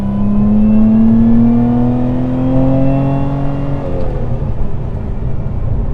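Lotus Emira sports car driving on the road, its engine droning loudly from inside with a steady, slowly shifting tone as it holds speed, then easing slightly, with no talk over it.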